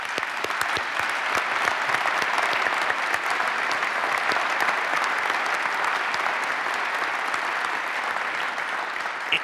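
An audience at a ribbon-cutting ceremony at the Palladium gives steady, even applause of many clapping hands, moderately distant and unbroken for about nine seconds, with no talking over it.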